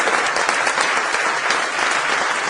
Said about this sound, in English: stand up on your feet first and give a big round of applause to Jim Francis